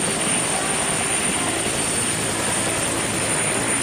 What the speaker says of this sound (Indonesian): Wih, kita menemukan mainan helikopter.